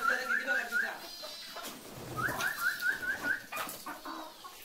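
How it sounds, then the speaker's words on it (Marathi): Sonali breed rooster and chickens cluck close by in two quick bursts of rising, repeated calls, separated by a short pause. "हा बघा, सोनालीचा कोंबडा."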